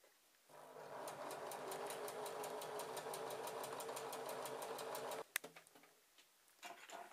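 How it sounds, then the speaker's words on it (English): A sewing machine runs a seam along a chemise sleeve, a steady close mechanical whir with rapid ticking for about five seconds, then it stops with a sharp click and faint handling. "And then just sew all the way to the end, about ½ centimetre in."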